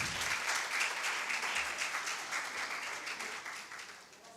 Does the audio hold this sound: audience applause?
yes